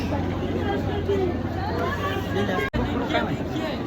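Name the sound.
festival crowd hubbub at Pune Ganpati festival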